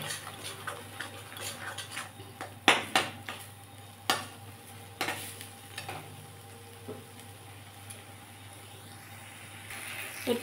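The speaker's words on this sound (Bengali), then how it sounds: "এরকম করে সমানে নেড়ে নেড়ে একটু ভেজে নিই" Kolmi greens paste fries in a pan with a steady soft sizzle, while a spatula stirs it in irregular scraping clicks and taps, close and fairly loud, with no talking.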